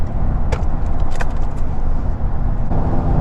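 A Ford F150 pickup truck cruising on a highway while running near empty on fuel gives a steady, close road and engine rumble with tire noise, plus a few faint clicks and rattles inside the cab.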